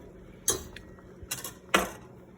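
A spoon stirs a bechamel cheese sauce for macaroni and cheese in a pan, making three short, distinct scraping clacks against the pan over a quiet background with no talking.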